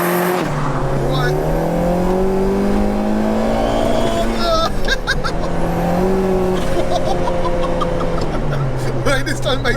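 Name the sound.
Peugeot 205 GTI 2.1L stroker turbo accelerating on boost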